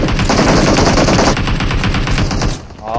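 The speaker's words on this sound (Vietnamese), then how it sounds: "team khác có bắn rồi" Rapid automatic gunfire from an enemy team in the battle game PUBG Mobile at Rozhok, loud, dense bursts filling most of the moment before fading near the end.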